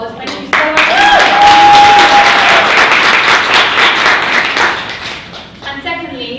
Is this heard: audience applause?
yes